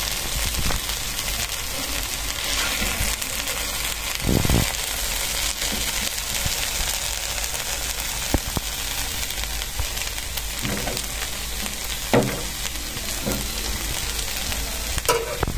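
Okra (bhindi) frying in a pan in a home kitchen gives a steady, close sizzle throughout, with a few soft clinks and stirring taps scattered through it and no talking.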